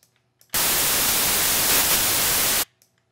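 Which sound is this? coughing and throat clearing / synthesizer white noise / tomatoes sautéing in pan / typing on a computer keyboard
synthesizer white noise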